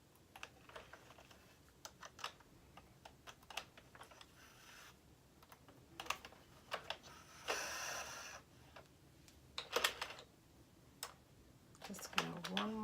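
A knitted hat is worked off an Addie knitting machine, with close plastic clicks and ratcheting taps in uneven bursts, a short rustle, and a brief voice near the end.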